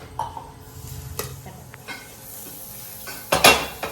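Batter cooking in a little oil in a pan, a low sizzle under sharp scrapes and clinks of a utensil against the pan, with a loud clatter near the end.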